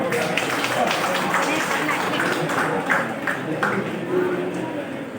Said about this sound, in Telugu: అందరూ ఏ బాధుల్లా సార్ గారిని చప్పట్లు పట్టండి